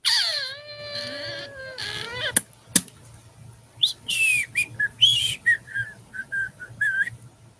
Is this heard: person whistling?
yes